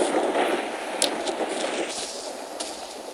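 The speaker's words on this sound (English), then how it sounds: "you saw that is huge compared to a normal creeper explosion" Huge explosion in Minecraft, set off with flint and steel, heard as a loud rumbling noisy burst with crackling debris that fades over a few seconds.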